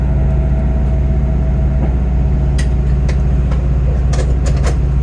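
A steady, loud low rumble of a Great Western Railway train to Paignton rolling along the track, heard from inside a carriage, with faint rattles and clicks over the constant drone.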